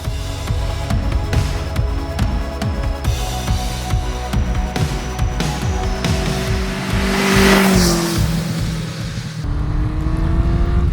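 A 1000cc, 135-horsepower vintage superbike engine roars steadily while riding, rising in pitch as it revs through gears, loud and close with strong wind rush.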